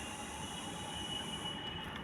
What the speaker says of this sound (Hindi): ये देखिए मेट्रो आ गई